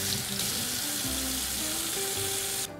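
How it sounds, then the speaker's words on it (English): Hands being washed with soap and water at a kitchen sink, a steady close hiss of running tap water that continues throughout and stops abruptly at the end. "I'm just gonna wash my hands with soap and water quickly"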